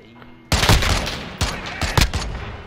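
Gunfire in the Call of Duty: Modern Warfare video game, several loud sharp bursts and single shots close up, in an irregular rhythm across the clip.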